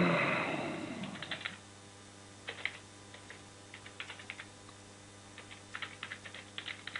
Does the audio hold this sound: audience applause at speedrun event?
no